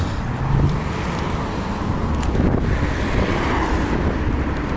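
Strong wind buffets the microphone while cycling through a city on a rainy trip. Steady, loud, rushing roar with gusty swells and no pauses.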